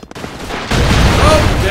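A video game explosion with gunfire erupts abruptly, a loud dense blast of rumbling booms and crackling shots that holds steady after the sudden onset.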